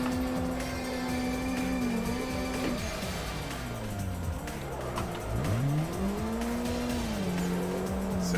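A drifting race car in the Assetto Corsa sim, the engine revving and dropping in pitch through gear changes and slides, with continuous tire squeal over the top, loud and sustained.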